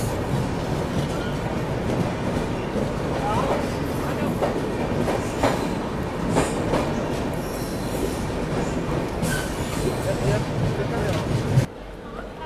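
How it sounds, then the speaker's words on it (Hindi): A train pulls into Raipur railway station in the evening, a loud continuous rumble of wheels with clattering and squealing, while people talk nearby throughout. "सामने से कोई ट्रेन भी आ रही है"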